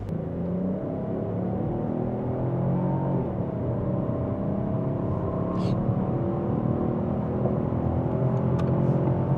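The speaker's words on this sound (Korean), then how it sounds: "가속 한번 시원하게 해보겠습니다" Inside a Peugeot 308 48V mild hybrid of about 140 horsepower, the engine hums and whirs steadily under hard acceleration, its pitch climbing gradually with constant road rumble beneath.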